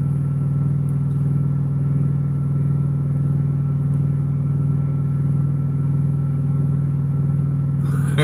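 A new truck's engine rumbles steadily from inside the cab, a continuous low drone at a constant level throughout with no talking.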